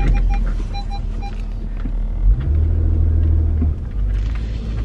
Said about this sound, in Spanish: voy a sacar mi carro porque así para que William meta su carro